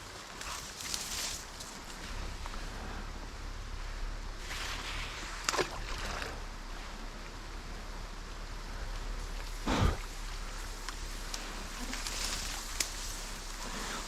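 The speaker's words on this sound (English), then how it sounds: "it's raining right now." Steady rain falls outdoors near water, a soft continuous hiss holding through the stretch with a few brief louder splashes or knocks and no talking.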